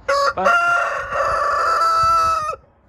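A rooster crows loudly and close in a farm poultry stall, one long drawn-out call after a short opening burst, with faint clucking from other chickens beneath it.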